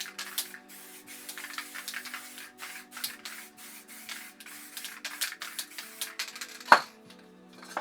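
An aerosol spray paint can hisses in short, uneven bursts onto a canvas during a crackle paint project, close by and fairly quiet, with a sharper clack near the end and no talking.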